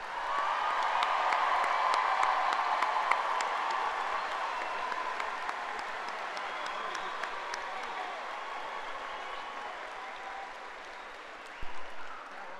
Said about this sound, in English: let's give the Ranger class of 2024 one more round of applause